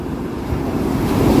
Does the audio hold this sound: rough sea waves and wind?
yes